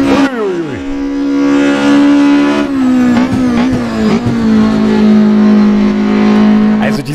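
An Opel Kadett C 16V race car in the Assetto Corsa racing game, its engine loud and close, revving hard with rising tones broken by gear changes and sustained high-rev running.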